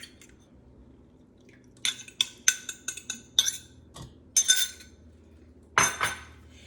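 A utensil stirs four slightly beaten eggs with sugar in a bowl, giving irregular bursts of bright clinks and scrapes against the bowl in quick clusters, fairly close, with quiet gaps between.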